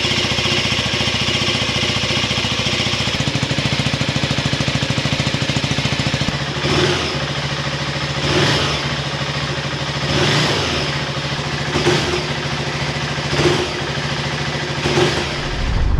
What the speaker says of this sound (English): We'll just let it warm up for a minute or two, and then we'll just give it a few light revs.